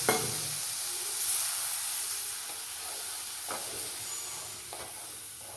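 Coriander powder, garam masala and pepper powder being stirred in a hot pan while cooking kappa biriyani, a steady sizzle and hiss with a few soft scraping strokes of the spoon, close and continuous with no talking.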